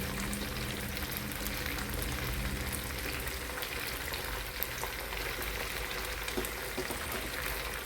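Chilli chicken lollipop kebab pieces frying in a small pan of hot oil, a steady close crackling sizzle with dense popping that continues unbroken throughout.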